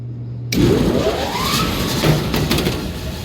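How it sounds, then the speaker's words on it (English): Belts of a Cambridge direct fired makeup air unit starting up, an abrupt rise into a loud, steady mechanical whir and rumble with a rising tonal sweep, rattling and thumping, heard close without talk. "Belts don't sound great."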